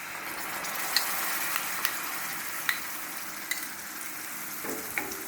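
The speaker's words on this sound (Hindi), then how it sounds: "इसको हमें अच्छी तरह से भूनना है। तो इसको हमें लगातार चलाते हुए इसको भूनना है अच्छी तरह से।" Black cardamom, cloves and a homemade spice masala roast in a pan for Kashmiri dum aloo, giving a soft continuous sizzle. Occasional sharp scrapes and taps from a spoon stirring sound close and fairly quiet.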